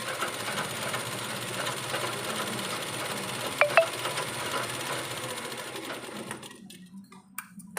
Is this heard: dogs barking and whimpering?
no